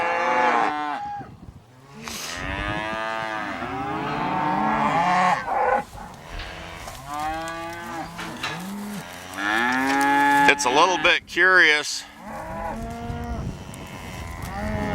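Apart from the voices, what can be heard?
cows mooing loudly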